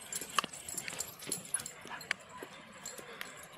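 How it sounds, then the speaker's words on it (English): A dog barks at a FedEx truck outdoors, its sharp barks and yelps faint and distant over steady background noise. "this dog in particular likes to bark at FedEx trucks"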